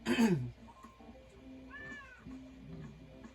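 A cat meows loudly once up close, followed by quieter, drawn-out mewing sounds over a faint background.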